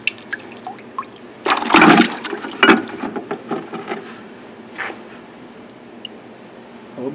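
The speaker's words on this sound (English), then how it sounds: "So I'm going to put it in the water one more time" Bronze casting plunged into water, giving bursts of hissing, bubbling and splashing with sharp surges and smaller sputters between, then quieter clatter and dripping.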